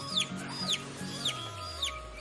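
A native grey rooster of a local desi breed gives four short, evenly spaced clucks close by, over a faint farmyard background with a low steady hum.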